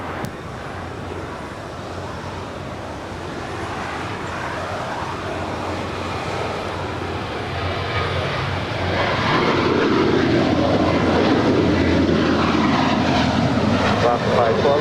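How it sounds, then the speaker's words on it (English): Alaska Airlines Boeing 737-900ER departing LAX, jet engine roar swelling louder partway through and staying heavy, with a voice speaking over it. "That was Alaska Airlines, the 737-900ER."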